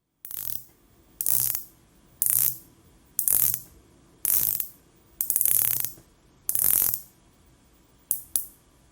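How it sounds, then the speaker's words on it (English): A Rolex Submariner dive watch bezel is turned in short bursts, each producing a rapid run of crisp metallic clicks, close and clear, repeated about eight times with brief silent pauses between. "it is still buttery smooth and clicky today"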